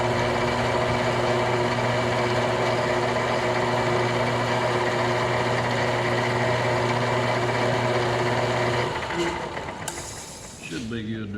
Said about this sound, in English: I'll bring it back to the lathe and face it to get it flat